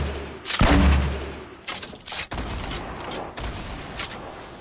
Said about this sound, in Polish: Możemy strzelać wszędzie teraz z grantnika